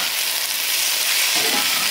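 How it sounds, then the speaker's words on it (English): Vegetarian fajita vegetables with chili powder sizzle steadily in a hot pan, a continuous loud frying hiss with a brief scrape of stirring near the end, no talking. "I'm going to go ahead and just stir that in."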